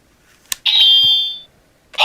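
Electronic beeping from a Ninninger GamaGama Juu toy gun from Shuriken Sentai Ninninger: a short click, then a loud sustained high buzzing tone lasting under a second, followed by another electronic burst starting at the end.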